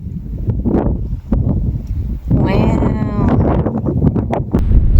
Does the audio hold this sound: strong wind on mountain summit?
yes